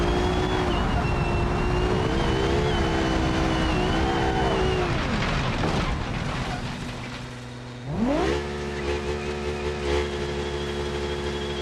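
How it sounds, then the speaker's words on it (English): A Formula Three race car engine screams at high revs during qualifying at the Bahrain Grand Prix, pitch dropping as it downshifts, then briefly quiet before roaring back up, loud and close. "let's just have a listen to this car sound, because I think it's just amazing"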